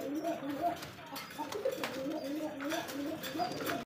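A large red pigeon coos in low, repeated throaty calls close by, mingled with other pigeons in a bird collection, with someone talking over them.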